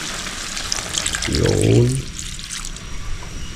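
Vinegar with garlic and pepper poured into a hot cooking pan, a short sizzling splash that swells for about a second then fades, with a brief word spoken nearby.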